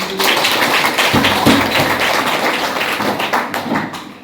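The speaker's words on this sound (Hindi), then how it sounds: "सभी जोरदार ताली से" Students clap loudly at a school assembly for the student of the month, a dense and sustained burst of hands that fades toward the end.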